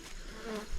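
Honey bee buzzing close to a beekeeper tending hives, a brief near whine lasting under a second with no talk.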